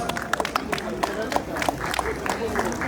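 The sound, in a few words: audience applauding the hostess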